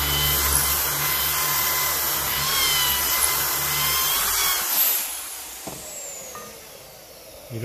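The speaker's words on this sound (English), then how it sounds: "You just want to drill away a bit of that that's widened there." A high-pitched power drill whines steadily for about five seconds drilling metal on a Massey Ferguson 35 tractor, then winds down and stops, leaving quieter scraping and handling sounds.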